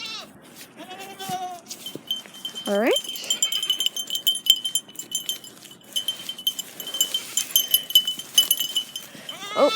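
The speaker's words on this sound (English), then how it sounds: "Yep, the goats are rearing to go." Goats bleat as they push out of a pen into a portable electric-fenced browsing area, several rising calls up close amid rustling and metal rattles, with a person talking over them.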